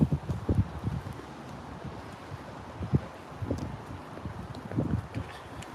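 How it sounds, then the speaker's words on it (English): Gusty wind on a windy day in North London, buffeting the microphone in uneven low rumbles with faint rustling, steady and moderately quiet with no voices. "You guys probably hear the wind."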